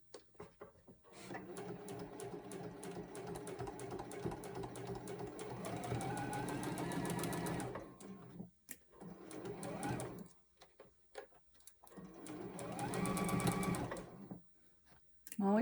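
A sewing machine stitches across the center seam of a quilt block in two long runs and a short burst, steady mechanical whirring with pauses between, while someone talks quietly over it.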